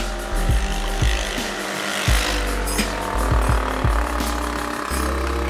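A 50cc scooter fitted with a 100cc big bore kit runs with its muffler off, a loud raw engine with sharp uneven popping bursts and revs close by, rough and rattly throughout.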